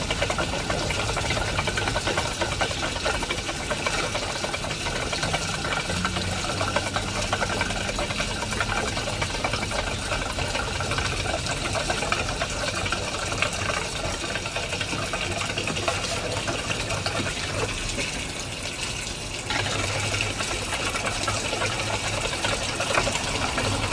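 Gasoline pumps steadily into the fuel tank of a third-generation Mitsubishi Eclipse GS through a nozzle, a continuous dense whirring flow with a mechanical hum that runs unbroken for the whole stretch, no voices.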